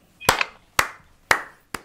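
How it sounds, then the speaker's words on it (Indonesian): Four separate handclaps spaced through a short stretch, sharp and close, with quiet gaps between them and no voices. "Tepuk tangan dulu lah"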